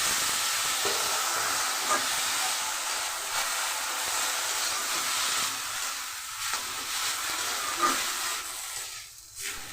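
Chopped coriander leaves with salt hiss and sputter steadily in a hot kadai, a continuous close frying sound that stays even and then thins out toward the end, with no talk.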